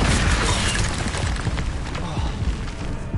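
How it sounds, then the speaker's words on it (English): Fire spell cast in Hogwarts Legacy: a sustained, loud roaring burst with crackling bangs that runs the whole stretch without letting up, fading slightly toward the end. "Incendio."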